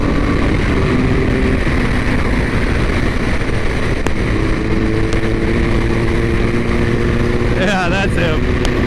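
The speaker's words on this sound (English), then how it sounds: "That's a Ducati." Ducati motorcycle passing on the road, heard from a rider on a BMW S1000RR amid steady loud wind roar; its engine note rises and shifts pitch as it goes by, with people talking over it.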